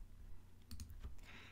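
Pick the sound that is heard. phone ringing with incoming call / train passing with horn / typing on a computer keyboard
typing on a computer keyboard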